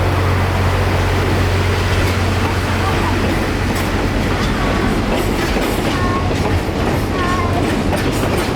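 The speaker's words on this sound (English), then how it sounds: "With Grayson at the controls of CF7 number 204, the train speeds off northward" Florida Railroad Museum heritage train hauled by CF7 locomotive number 204 pulling away northward on a North Pole Express run, a loud, steady diesel drone and rumbling rolling stock with faint squeals throughout.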